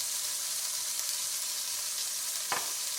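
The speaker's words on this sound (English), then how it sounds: "I want to hear that sizzle action" Seasoned beef searing in a hot pan gives a steady bright sizzle, close and continuous, with a brief louder burst of spitting near the end.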